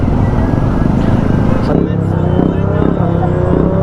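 A parked Honda CBR 650R motorcycle engine runs at idle nearby, a steady loud rumble with background crowd chatter around it.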